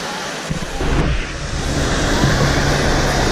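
A mountain river near Canazei in the Dolomites rushes in a broad, steady roar, loud and close, with wind buffeting the microphone at the start.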